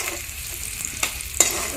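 Fried elephant foot yam is stirred into soya chunks in a pan, giving a soft continuous sizzle broken by a couple of sharp spatula scrapes against the metal.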